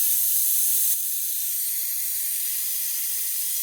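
Air hisses steadily out of a freshly cracked-open fluid line being bled, a continuous close airy rush with a faint low rumble underneath and no talking.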